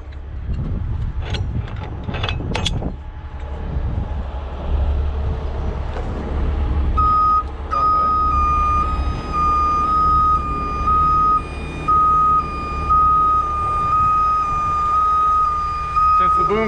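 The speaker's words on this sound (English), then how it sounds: "I'm gonna swing the boom over here" Steady low rumble of a truck crane with a few sharp clanks early on as the boom swings, then a sustained high electronic warning tone beeping in long pulses over the engine drone.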